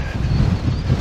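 Wind gusting over an exposed mountain ridge, a rough, close rumble buffeting the microphone throughout.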